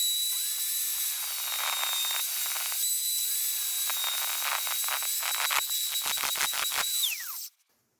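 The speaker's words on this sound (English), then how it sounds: "get it spinning, get a grinder on it, and just take a couple of mil off it" An angle grinder skims a couple of millimetres off a spinning disc on a Ford Escort MK1 restoration, giving a steady high whine with scraping bursts that intensify before the tool cuts off abruptly near the end.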